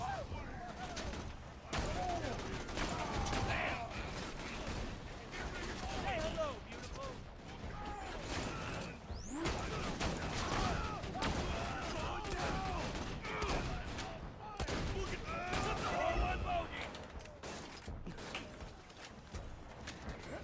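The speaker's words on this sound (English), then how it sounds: "I'm hearing a lot of explosions, but like, who's fighting?" Explosions and gunfire from a Borderlands 2 game session, dense crackling bursts and booms repeating steadily at mid distance throughout, with someone talking over the battle noise.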